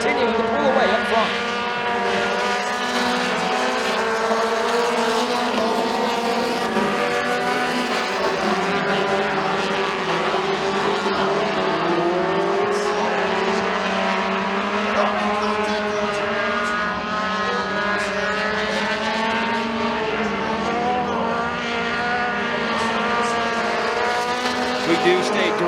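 Race cars howl around the track at McKean County Raceway, engines droning and rising in pitch as they pass through the turns, loud and continuous under a track announcer's steady commentary.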